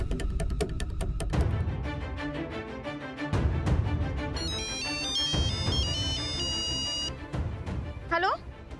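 A phone ringtone plays for an outgoing call in a Marathi TV serial scene, a repeating electronic melody carrying over steady background music, with a brief chirpy tone near the end.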